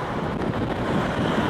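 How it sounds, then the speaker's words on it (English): Wind buffets an outdoor microphone with a steady, loud rumbling roar that fills the whole moment, with no voices over it. "It's kind of windy."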